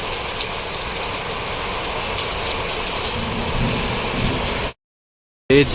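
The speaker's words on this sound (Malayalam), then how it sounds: "ക്ഷേത്രം എത്താനായപ്പോഴേക്കും നല്ല മഴ പെയ്തു." Heavy rain at Madikeri, Coorg, near Omkareshwar temple pours in a dense, steady hiss, then cuts to silence near the end before a brief burst of sound returns.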